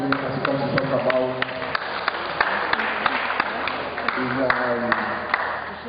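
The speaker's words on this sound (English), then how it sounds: "a round of applause for him as he comes to talk about" An audience applauds a student of Olivet Baptist School at a 50th birthday celebration: a steady wash of clapping with sharp individual claps, mixed with voices talking over it.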